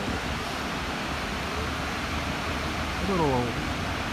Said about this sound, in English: This is Gibbons Falls.